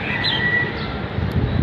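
Pigeons released into the air give brief chirping calls over a steady rushing background, loud and close for a short moment.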